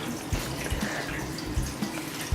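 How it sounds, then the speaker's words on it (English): Apple juice pours from a container into a roasting pan holding a ham, a continuous splashing liquid stream with a few soft knocks, fairly faint. "pour the apple juice that I have here, 4 cups of apple juice, into the roasting pan with the ham."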